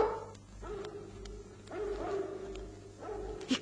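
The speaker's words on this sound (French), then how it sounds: "je ferai l'aboiement du soir, qui se transmettra de chien en chien, de quartier en quartier, de ville en ville" Dogs barking across London in the evening, with repeated barks and yips passed along from one dog to another, some close and some more distant, over a low background rumble.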